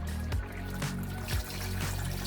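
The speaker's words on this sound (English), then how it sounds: "So I will just add my stock water so to get the rice ready." Stock water is poured into rice for Nigerian jollof, a close, continuous trickle with a few soft knocks and splashes as the liquid runs into the pot, and no one speaking.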